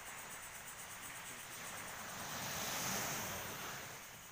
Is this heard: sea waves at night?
yes